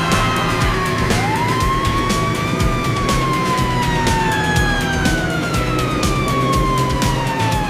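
A cartoon police car siren wails loudly with sweeping rising and falling tones that repeat steadily, close and alone with no talk.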